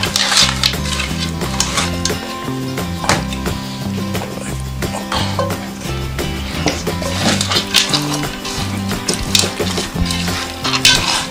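Food is stirred while it cooks over a sizzling heat, with a steady frying hiss under repeated scraping and clattering strokes and music playing loudly in the background.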